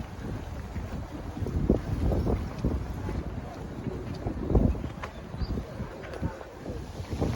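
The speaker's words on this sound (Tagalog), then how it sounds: "Grabe, ang hangin." Strong wind blows outside Nagoya Castle in Japan, a constant rumbling roar buffeting the microphone with gusty surges throughout and no clear talk.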